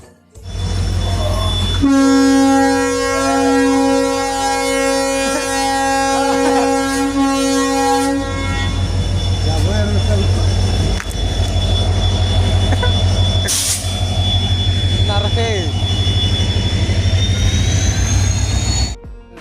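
A loud train horn blares for several seconds, followed by the heavy rumble and clatter of a train, with a squeal partway through.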